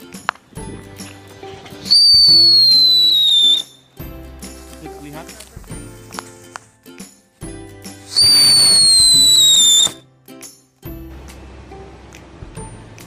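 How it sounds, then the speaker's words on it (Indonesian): Two long descending whistles from fireworks, each lasting a couple of seconds, shriek over crackling pops and clicks, with people talking in the gaps. "Selanjutnya yang kedua adalah mercon thunder."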